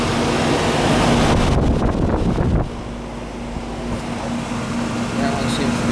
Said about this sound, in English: I think just the fan's running.